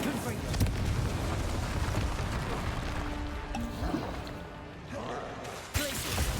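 A Confringo fire spell in Hogwarts Legacy erupts into a sustained, roaring blast with crackling debris and a sharp late impact, layered over busy game ambience.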